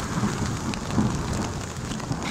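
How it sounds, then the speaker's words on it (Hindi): Heavy stormy rain with thunder during outdoor cooking: a dense, steady downpour roar with a low rumbling underneath and no talking. "बादलों की जोरदार आवाज़ें आ रही हैं। देखिए जी, बिजली चमक रही है, बिजली चमकने की आवाज़ें और बहुत ही तेज़ बारिश"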